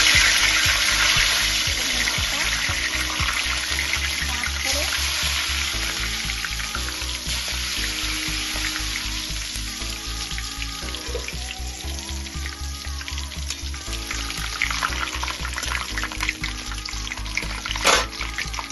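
Bay leaves frying in hot oil in a wok for a Bengali labra vegetable dish, a steady close sizzle and crackle running throughout with a brief sharp spike near the end, no voices.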